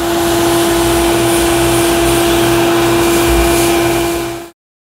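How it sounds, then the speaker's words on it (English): Shop vac sucking filter media out of a filter, a loud steady roaring whine with a constant tone that runs continuously and then cuts off abruptly when switched off. "using the shop vac is a lot faster and more convenient"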